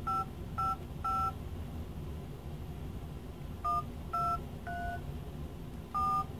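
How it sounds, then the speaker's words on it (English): A phone dialer keypad on a budget smartwatch plays DTMF tones: three quick beeps, a pause, three more, then a single beep, each short, clean and electronic over quiet background hiss. "So here's where you actually dial, make phone calls."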